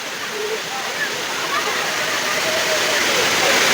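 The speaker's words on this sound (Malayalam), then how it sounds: "ആ ഒരു വെള്ളം വീഴുന്ന സൗണ്ടേ ഇങ്ങനെ കേട്ടോണ്ട് നിൽക്കാൻ ഒരു പ്രത്യേക അനുഭവം" Palaruvi waterfall roars with a loud, continuous rushing wash of falling water that fills the whole stretch evenly and grows slightly stronger toward the end.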